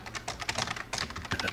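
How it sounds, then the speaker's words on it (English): Fast, uneven clatter of keys being typed on a computer keyboard, close and fairly quiet, with rapid irregular taps throughout and no talking. "As I drink more, my typing gets worse."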